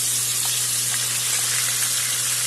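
Dry chillies, fennel seeds, cinnamon and cardamom fry in hot oil with a loud, steady, dense sizzle that carries through evenly without a break.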